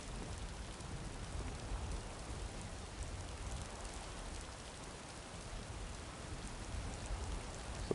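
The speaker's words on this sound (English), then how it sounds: "Yeah, I can hear thunder." Steady heavy rain pours throughout a stormy scene in Skyrim VR, a dense broadband hiss with low rumbling thunder blended underneath, loud and continuous with no clear breaks.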